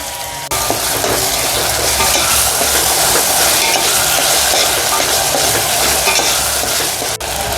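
A loud, steady sizzle comes from chopped tomato added to reddish fried onions in one pot for a spicy mutton curry. A sharp clatter marks the start, followed by continuous close frying and stirring and a brief utensil knock near the end. No voices are heard.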